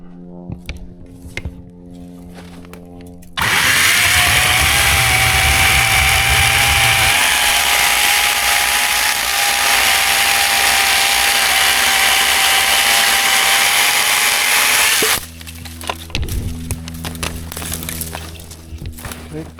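Senix 60V cordless pole saw cutting through wood, a loud steady buzzing whine running about twelve seconds without pause, with quieter handling noises before and after.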